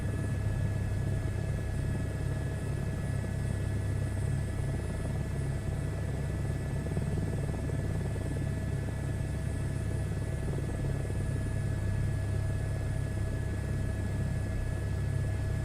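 Helicopter engine and rotor drone from a flight simulator game, a steady continuous rumble with a constant whine on top, even and unbroken, with no talk.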